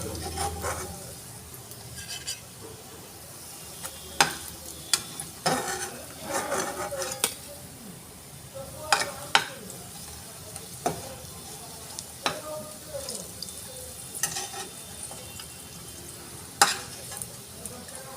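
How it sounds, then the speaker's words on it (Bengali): Coconut fritters (narkel bora) fry in a pan with a steady soft sizzle, while a spatula scrapes, turns and taps against the metal in frequent sharp clinks close by. "নিয়ে এইভাবেই সব বড়াগুলো ভেজে নেব"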